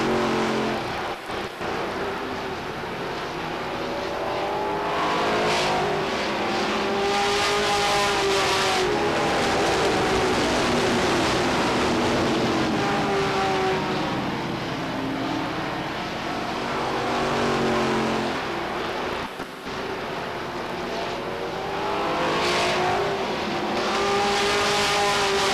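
Stock cars racing at Beech Ridge Motor Speedway in 1992 weekly racing: a loud, continuous roar of engines with repeated rising and falling whines as cars sweep past, sustained throughout.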